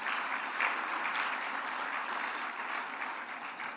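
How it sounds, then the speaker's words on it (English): Steady applause from an audience at an economic outlook breakfast, a continuous wash of clapping that fades slightly toward the end. "let's please give them a round of applause"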